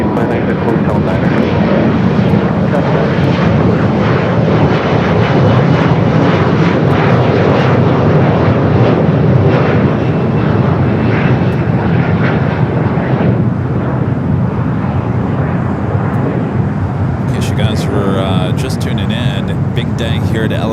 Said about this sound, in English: Egypt, next up for takeoff here on the south side